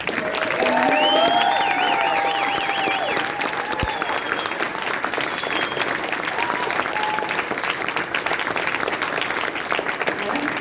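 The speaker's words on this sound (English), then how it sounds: "Now everybody please give her a round of applause." Audience applause at a township fall fundraiser gala, steady full-room clapping lasting around ten seconds, with some voices and a few whoops mixed in over the clapping.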